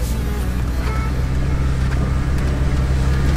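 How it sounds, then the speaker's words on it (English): A Jeep driven by a five-year-old girl gives off a steady low engine and road rumble at close range with no pauses. "Claire just drove the Jeep for her first time."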